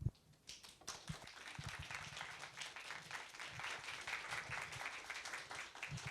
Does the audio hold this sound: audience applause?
yes